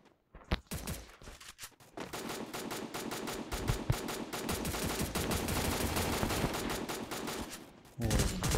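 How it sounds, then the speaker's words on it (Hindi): Rapid gunfire from the mobile battle game Free Fire, a dense stream of close, loud shots with bursts and short pauses, and no talk over it. "मुझे एक गोली मार दी।"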